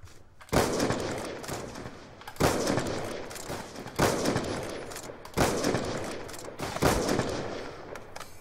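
Five loud, sharp gunshot bursts in Black Ops 2, each hitting hard then ringing out over roughly a second and a half, evenly spaced like single sniper shots.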